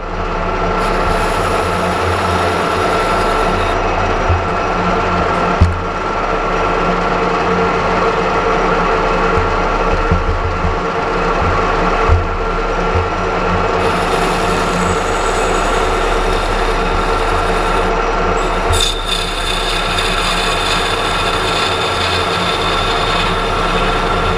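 A metal lathe spinning at 630 rpm while facing an aluminium workpiece held in the chuck, a steady humming machine drone with a low rumble and occasional light knocks, close and unbroken, no talking.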